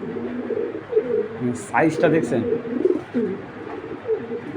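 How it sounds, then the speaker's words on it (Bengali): Racing pigeons in a loft cooing in low, repeated throaty murmurs, close by, while someone talks over them and a few brief higher chirps cut through. "কবুতর কাকে বলে দেখেন"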